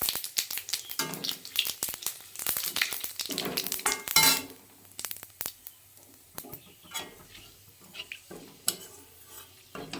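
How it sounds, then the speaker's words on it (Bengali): A tempering of bay leaf, dried red chilli and cumin seeds fries in hot oil, with loud spattering and stirring scrapes at first, then settles into a quieter crackle with scattered pops. "দিয়ে আমি ফোড়নটাকে একটু ভাজা ভাজা করে নেব।"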